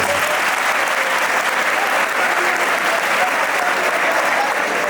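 An audience at a live comedy folk show claps in loud, dense, continuous applause that holds at an even strength for the whole stretch.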